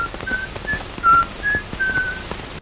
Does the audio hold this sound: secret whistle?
yes